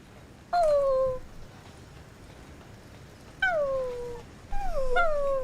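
A dog in the video game Resident Evil 5 gives three high, whining, falling yelps or whimpers, spaced apart and clear over quiet background.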